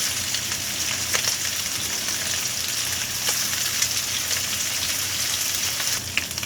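Tofu sizzling face down in a pan on high heat, a loud, constant crackling hiss with small popping spikes throughout, no voices over it.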